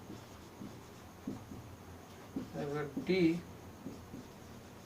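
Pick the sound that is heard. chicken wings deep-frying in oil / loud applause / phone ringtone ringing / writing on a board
writing on a board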